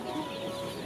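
Brief, close clucking of chicks and hens over a noisy background, a short burst of fowl calls lasting under a second.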